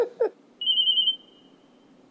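A telephone rings with a bright, sustained electronic tone, one long ring and the start of another after a pause, just after a brief voice.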